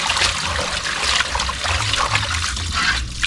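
Raw chicken is washed under running water, giving a steady close splash and trickle that runs without a break and has no talking over it.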